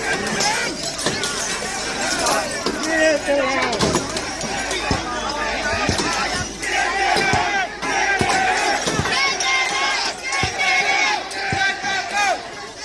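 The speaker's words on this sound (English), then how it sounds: "So the crowd begins to chant, "Get them out, get them out, get them out."" A large protest crowd outside a hotel in Dublin chants in loud, rhythmic unison, with shouts and scattered impacts breaking through a dense, continuous roar of voices.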